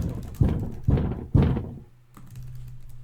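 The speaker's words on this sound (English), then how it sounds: "let me bang my head on the wall" Three heavy, dull thuds of a head banging against a wall, evenly spaced about half a second apart, loud and close, followed by a quiet low hum.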